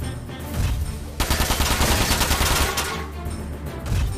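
Rapid bursts of mech machine-gun fire in Front Mission 4 on a Paris stage, a fast stuttering rattle that swells loud in the middle and trails off, with bursts before and after.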